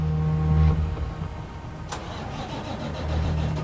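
A 75,000-pound wrecked truck's engine cranks and catches during a roadside recovery, a loud nearby rumble that settles into a steady idle with a brief clank partway through.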